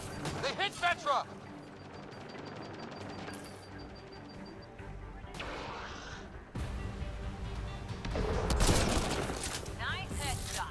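Gunfire and impacts from the video game Mass Effect: Andromeda, a busy mix of shots and crashes layered over game music and effects, with speech in places.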